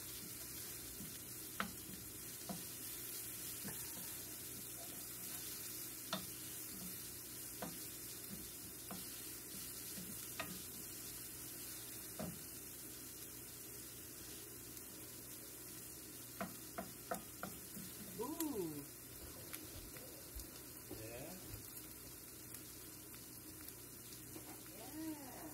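Frozen peas and fresh tomatoes frying in a pan give a steady, soft sizzle throughout, with occasional clicks and scrapes of stirring and faint talk in the background.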